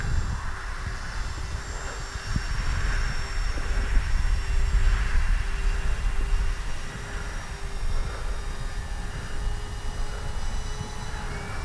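A radio-controlled Avios Albatros model airplane drones steadily overhead, its engine whine holding a constant pitch with slight swells as it passes, no voices.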